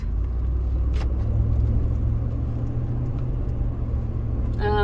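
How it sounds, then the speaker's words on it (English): A 2004 Ford F150 pickup truck on the road, its engine giving a steady, loud low rumble with continuous road noise from inside the cab and no talk. "So now we're gonna go take this for a drive."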